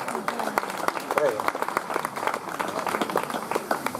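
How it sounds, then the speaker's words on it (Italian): Applause for the young mayor of Serdiana at a poetry competition, scattered hand claps over a murmuring crowd with voices talking throughout, moderately loud and steady for several seconds. "un applauso a suo sindaco giovanissimo di Serdiana"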